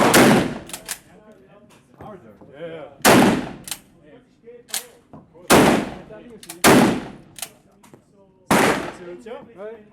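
Rifle fitted with a Japanese-type muzzle brake firing at an indoor range: several loud, sharp close shots spaced a second or two apart, each with a short echoing tail, and people talk quietly between the shots.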